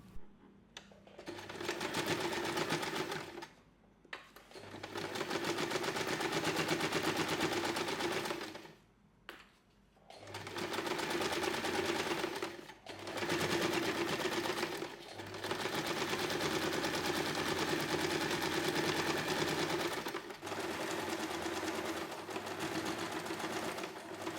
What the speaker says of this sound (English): Now I'm switching back to my regular presser foot to continue sewing the rest of the pouch more easily.